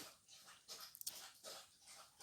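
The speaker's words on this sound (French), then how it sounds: "ma chienne qui boit" Dog lapping water from a bowl indoors, a faint, rhythmic series of wet licks and splashy laps at close range, continuing steadily without speech.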